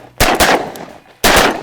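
Shotgun blasts ring out during a waterfowl hunt, two sharp reports in quick succession followed by a third after a pause, loud and close with trailing echo.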